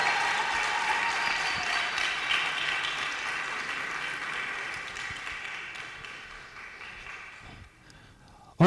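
A crowd at a productivity workshop and expo keeps clapping for a speaker being welcomed on stage, broad applause that starts full and gradually thins and fades, ending in a sharp bump.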